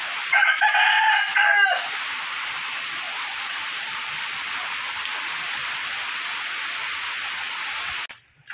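A rooster crows once, loud and close, over steady rain drumming on a surface that continues unbroken for several seconds afterward.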